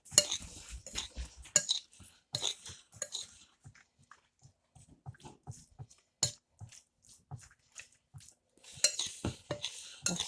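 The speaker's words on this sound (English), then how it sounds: "Just give this a quick stir." Garlic, sodium and cracked pepper in a stir fry pan are given a quick stir, with close, intermittent scrapes, taps and clinks of a utensil against the pan, separated by short quiet gaps.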